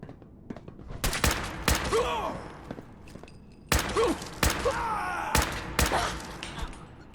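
Gunfire in Fallout 4 played in Horizon 1.8 Desolation Mode: a run of sharp, loud shots in uneven bursts, several close together then gaps, with echoing tails and faint game ambience between volleys.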